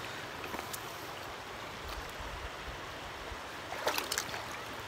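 Stream water flows steadily beside a fly-fishing spot during a roll-cast lesson, a continuous broadband rush at moderate level with a brief louder splash near the end, no talking.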